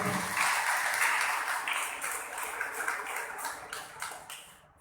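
A church congregation claps to thank the bishop at Saint Joseph Latin Catholic Church in Peechi, a dense burst of applause that slowly thins and fades over a few seconds in a reverberant hall.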